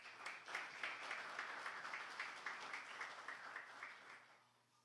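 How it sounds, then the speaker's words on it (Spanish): Audience applause for a panel moderator at a book presentation event, a soft, steady patter of many hands heard from a distance, fading out near the end. "con el aplauso de todos ustedes"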